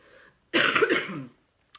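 A single harsh, throaty cough burst lasting under a second, close to the microphone, followed by a faint brief click.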